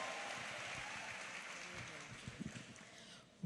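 An audience in a church service applauds a woman pastor as she is welcomed, a dense steady wash of clapping that tapers off near the end.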